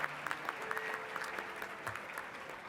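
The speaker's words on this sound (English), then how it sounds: "Thank you so much for that round of applause." Audience at a spirit luncheon applauding, fairly soft and somewhat distant clapping with faint background murmur, continuing steadily for a few seconds.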